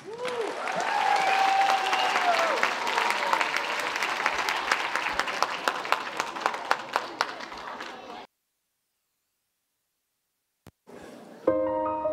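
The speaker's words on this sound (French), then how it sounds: "Alors, une bonne main d'applaudissement" Audience applause at a local school talent show final, dense clapping with scattered cheers filling the hall for about eight seconds before cutting to silence, then a singer's voice begins over music.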